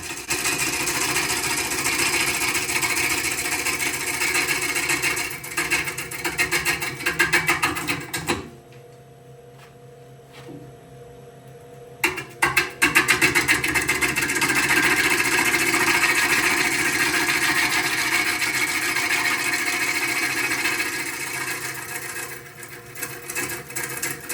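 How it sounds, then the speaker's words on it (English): Wooden bowl being rough-turned on a lathe with a gouge, making an interrupted cut: a steady loud grinding, chattering whir that drops to near silence for a few seconds, then resumes just as strongly. "I'm making an interrupted cut here"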